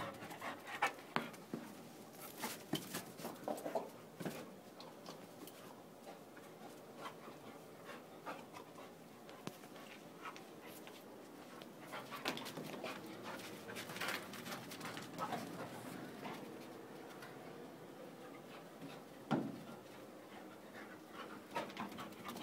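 A puppy pants in quick bursts, close by, while playing fetch with golf balls, with scattered light taps and rustles of play around it.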